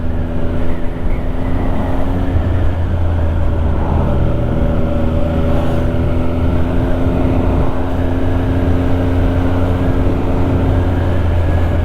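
A car engine runs at a steady idle-like drone, a constant low rumble close by that holds unchanged for the whole stretch with no talking.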